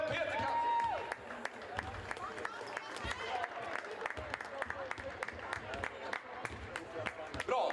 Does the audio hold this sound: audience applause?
yes